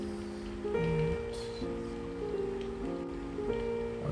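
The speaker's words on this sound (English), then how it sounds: "How long has it been raining?" Rain falls in the video game If On A Winter's Night, Four Travelers, a soft continuous patter. Gentle, sustained harp-like musical tones shift in pitch over it, and no one speaks.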